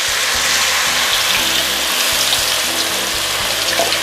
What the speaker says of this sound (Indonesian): Saya tumis dulu bumbu yang sudah dihaluskan.